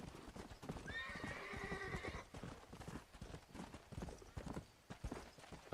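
Horse hooves clip-clopping at a steady walking rhythm with a clear whinnying neigh early on, moderately quiet and continuous, with no voices present.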